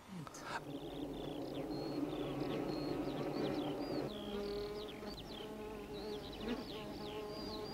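Many marked honeybees buzz in a dense, continuous drone close by, with higher whining tones drifting over the steady hum as the bees dance on the comb.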